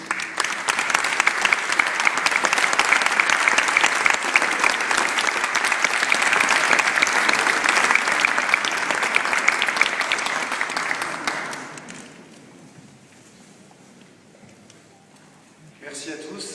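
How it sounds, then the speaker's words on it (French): A crowd applauds steadily and loudly for about twelve seconds, then the clapping fades away, with a brief scattered burst returning at the end. "je pense qu'on peut applaudir"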